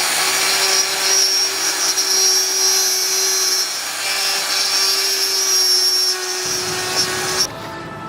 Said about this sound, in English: since I've got the router already set up, I'm going to go ahead and cut this one in